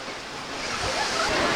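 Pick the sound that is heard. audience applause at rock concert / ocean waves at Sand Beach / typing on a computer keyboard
ocean waves at Sand Beach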